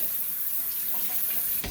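Water runs steadily from a tap onto a diamond sanding block used to flatten a harmonica comb, a continuous close splashing hiss that cuts off abruptly at the end.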